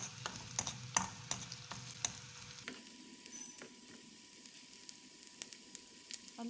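Capsicum masala gravy sautéing in a pan, a soft sizzle under repeated light scrapes and taps of a spoon stirring, faint and close with no talking.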